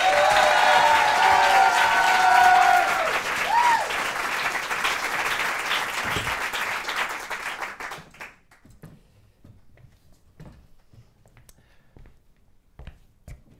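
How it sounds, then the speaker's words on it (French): An audience at a comedy show applauds comedian Clément Gaucher, loud dense clapping with some cheering for several seconds, then fading out to near quiet with a few scattered claps. "je vous demande de l'applaudir, Clément Gaucher"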